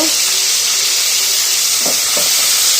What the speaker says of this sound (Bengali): এটাকে একটু ভেজে নিই।